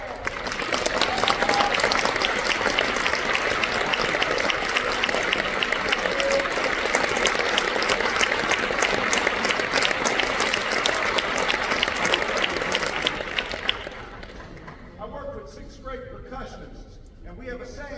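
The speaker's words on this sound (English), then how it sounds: "Pretend that we just finished the last note of The Incredibles so that when I recognize the soloists, you're still applauding." A large audience at an 8th and 9th grade honor band concert applauding loudly and continuously for about thirteen seconds, a dense wash of clapping with some crowd noise, then fading to a quieter room with voices.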